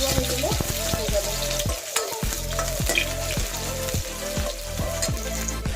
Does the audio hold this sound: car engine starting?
no